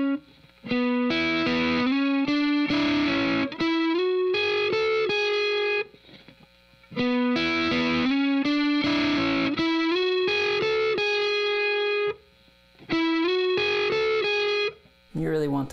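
A distorted electric guitar plays the intro riff of a song, with sliding and ringing notes in repeated phrases, loud and clear, broken by short pauses between passes; no talking.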